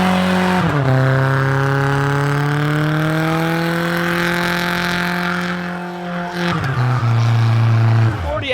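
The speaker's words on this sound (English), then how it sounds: "And as soon as they came, they're leaving the Regera and the P1." A Koenigsegg Regera and a McLaren P1 accelerating away, with loud engine drones that rise in pitch through the gears and sustained roaring pulls, close by at first, while people talk excitedly over the noise.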